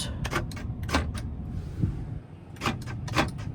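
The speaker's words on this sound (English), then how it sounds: "Door locks." Power door locks on a 2011 Ford F250 Lariat Super Duty diesel pickup thunk repeatedly in quick clusters, sharp mechanical clacks heard up close from inside the truck.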